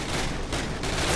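Burst of gunfire in the Call of Duty video game, loud rapid shots crowded together in a short, dense volley.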